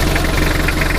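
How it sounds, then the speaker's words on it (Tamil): An SUV engine idles steadily up close, a constant low rumble with a faint rhythmic knock throughout. "இன்ஜின் நாய்ஸ் நல்லாயிருக்கு"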